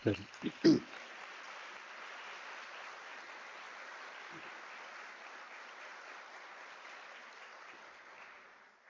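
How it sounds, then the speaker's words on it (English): Sustained applause from the audience at a University of South Africa graduation ceremony, a soft even patter of many hands that carries on for several seconds after a few brief sounds at the start, then fades. "can we applaud our graduates?"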